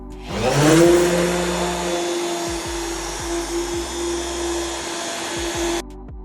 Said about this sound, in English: This commercial blender was such a great investment.